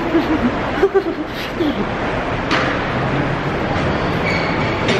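Inside a moving Seoul metro car: a steady rumbling roar of wheels on rails with faint clatter, and a few voices murmuring early on.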